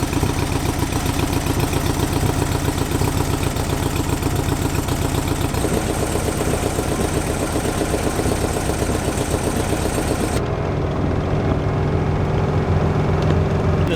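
A Volkswagen engine fitted with dual carburetors idles steadily on its own, a loud, even, close mechanical rumble that holds without throttle for the whole stretch, with no voices over it.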